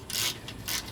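An extended 1/4-inch flex-head ratchet clicks as it turns bolts on a Honda Pilot during radiator fan replacement, giving two short, close bursts of rapid mechanical ticking.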